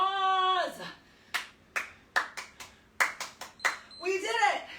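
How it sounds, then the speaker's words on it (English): A short burst of hand clapping during a HIIT workout: about a dozen sharp, close claps in an uneven rhythm, with a voice heard just before and after. "Give yourself a round of applause."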